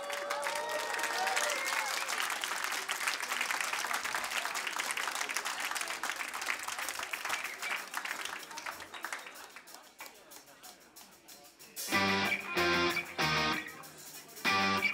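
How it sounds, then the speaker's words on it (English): Concert audience at a live rock show in Bonn applauding and cheering in a sustained roar, fading before amplified band music starts up near the end. "Give yourself an applause."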